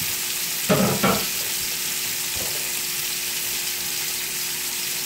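Salmon fillets sear face down in a hot cast iron skillet on a stove turned down slightly, giving a steady broadband sizzle throughout with two brief louder bursts near the start, no voices.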